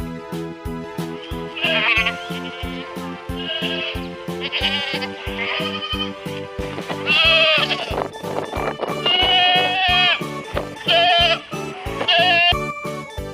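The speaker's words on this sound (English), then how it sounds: "G for goat" Repeated goat bleats, loud and close, wavering cries rising and falling over a steady rhythmic musical backing with regular beats.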